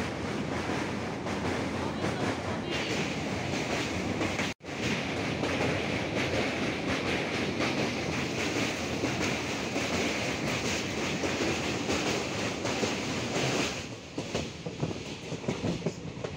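The Kanchan Kanya Express rolls along the rails on the Siliguri to Alipurduar run through the Dooars, a loud, steady rumble and clatter heard from on board, with a momentary dropout early and a shift in texture near the end.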